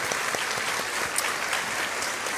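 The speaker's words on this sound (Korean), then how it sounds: "한번 박수로 격려해 주시면 감사합니다" A church youth congregation at Sunday worship claps warmly to welcome first-time visitors, a steady, even patter of applause filling the sanctuary without speech.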